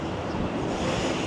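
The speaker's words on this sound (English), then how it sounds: "here it's usually very windy because of the 2 buildings" Strong wind roars steadily across the microphone between two buildings near the beach in Da Nang, a dense, close rumble with no pauses.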